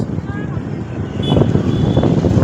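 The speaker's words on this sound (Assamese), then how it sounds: "বাজাৰ দিনা গাড়ী ভিৰ" Vehicle traffic on a busy market day in a small Assamese town, a dense, rumbling wash of engines and road noise that grows louder midway, with faint tonal beeps and horn traces in the mix.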